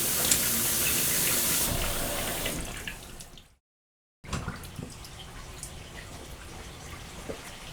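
Water rushes steadily into a bathroom sink, fades to a brief silence, then a quieter trickling and gurgling drain through the overflow with scattered drips follows.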